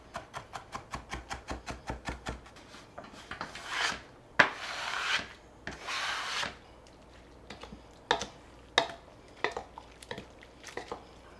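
Peppers being chopped on a cutting board for shrimp ceviche, with a fast steady run of about twenty knife taps, then slower scraping and rubbing strokes and a few spaced final chops, close and fairly quiet.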